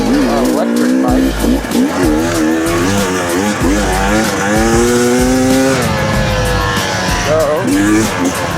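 A 300 motorcycle ridden on the road, its engine revving loud and close with rising and falling whine as it shifts, while a rider talks over it.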